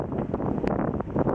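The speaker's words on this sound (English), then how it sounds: "And I know it's windy, but whatever." Gusty wind in San Francisco buffets the microphone in uneven, loud rumbling bursts across the whole moment, with nothing else standing out.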